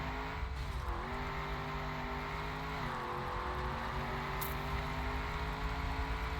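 A desert car drives in the Trackmania racing game, its engine giving a steady droning whine that dips and rises with gear changes and shifts in speed, moderately quiet and alone.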